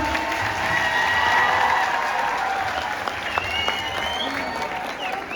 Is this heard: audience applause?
yes